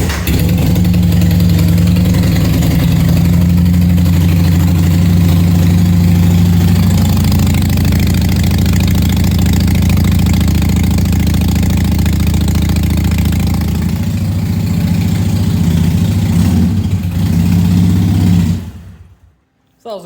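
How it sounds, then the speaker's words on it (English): A 2017 Harley Davidson Iron 883 idles loud and deep through a Bassani exhaust after a cold start, a steady throbbing rumble close by that holds for most of the clip before it cuts off abruptly near the end. "I'll fire this up for you guys so you can hear the exhaust. It is quite loud."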